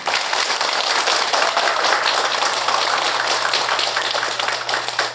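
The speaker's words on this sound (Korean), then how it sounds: "다시 한번 좋은 말씀 주신 법정님께 뜨거운 박수 한번 부탁드립니다." An audience at a Buddhist monk's Baekjung memorial dharma talk gives a dense, steady round of clapping that stays loud and even for the full five seconds, with no voices over it.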